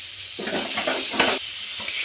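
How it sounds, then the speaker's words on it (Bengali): Chicken kathi kebab frying on a tawa over a medium-low flame, a close, steady sizzle that swells into louder hissing bursts as the pan is shaken, with no voices. "চারদিক ঘুরিয়ে ঘুরিয়ে এটা ভালো করে ফ্রাই হয়ে যাচ্ছে"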